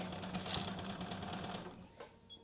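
A sewing machine backstitching a few stitches on quilt binding, with a quiet steady rapid mechanical whirr that stops abruptly near the end.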